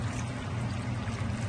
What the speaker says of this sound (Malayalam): ഒരു 1½ കപ്പ് വെള്ളം കൂടെ ചേർത്ത് ചിക്കൻ ഒന്ന് വേവിക്കാൻ വെക്കാം.